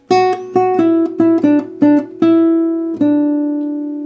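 Acoustic guitar picking a melody: a series of clear, close plucked notes in a short syncopated run, the final note left ringing out alone.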